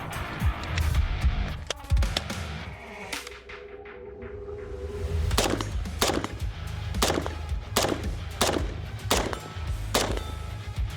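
An MP7 submachine gun chambered in 4.6x30 firing, heard as sharp, loud shot bursts, sometimes overlapping and sometimes spaced apart, over a busy mixed background with no speech.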